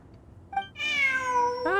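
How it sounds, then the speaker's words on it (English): A cat meows in the video game Genshin Impact: a short chirp followed by a long, drawn-out, clear meow and the start of another, close and alone. "Ah, that's the cat."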